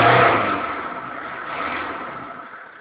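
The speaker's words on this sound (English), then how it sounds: "I'll give it a rev." Citroen Relay 2.5D non-turbo diesel van from 2002 revving once, with a loud engine burst at the start that slowly falls back toward idle, close by and with no talk over it.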